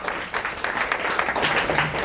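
Listeners at a career counseling session clap in a brief, uneven burst of applause with slightly irregular rhythm.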